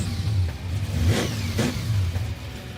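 A 1968 Dodge Charger's 440ci V-8 firing up and revving, a deep rumbling engine rising and falling through several throttle blips, close by, with no talk.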